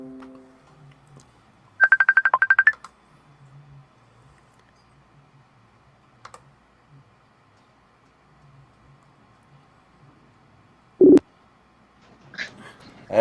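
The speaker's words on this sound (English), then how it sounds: "We'll call her back" Telephone call being dialed and ringing: a brief burst of rapid electronic tones, then a quiet line with faint ringing pulses and scattered clicks, a loud short blip near the end.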